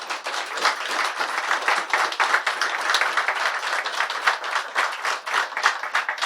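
A university ceremony audience applauding, a dense, steady wash of many hands clapping at close to moderate distance, sustained without pause.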